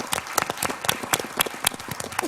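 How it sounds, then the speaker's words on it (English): A plenary audience at a plastic pollution conference gives a brisk round of applause, many hands clapping densely and close throughout. "I think we can all give each other a round of applause."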